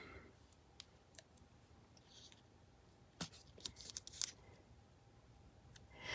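Paper cut with scissors during a paper-crafting session, a few quiet close snips and crisp clicks spread out over faint room noise, with no talking.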